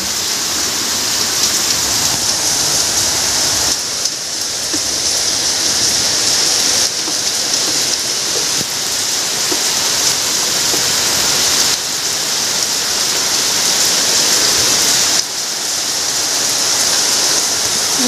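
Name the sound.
heavy rain flooding a house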